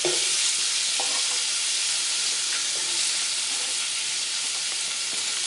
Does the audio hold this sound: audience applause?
no